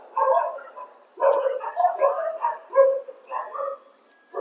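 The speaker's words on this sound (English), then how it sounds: "a bunch of dogs on the road, on the street, barking at a dog that's in the balcony of a building" Several dogs bark from a street outdoors at another dog up on a building balcony, giving bursts of overlapping, mid-distance yapping with short pauses between them.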